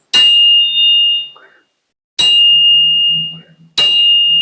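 A steel anvil struck three times with a hammer, each blow giving a bright, bell-like ring that sustains and slowly fades, with a faint low hum between strikes.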